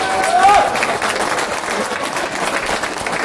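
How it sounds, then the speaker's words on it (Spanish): Loud crowd applause at a festival in Texcoco, dense clapping that swells early then holds steady, with a brief whistle-like tone near the start. "Fuerte el aplauso para el maestro."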